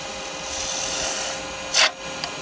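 A carbide woodturning tool cuts a taper into a spinning workpiece on a wood lathe, shaping a Christmas tree. It makes a steady, close, raspy scraping hiss with a sharper, louder burst of cutting near the end.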